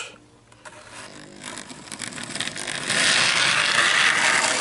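An old electric motor from a flea-market find, repaired by shortening its worn brushes, spins up from near silence. A whirring, ratcheting hum builds over a couple of seconds, then settles into a steady, fairly loud run.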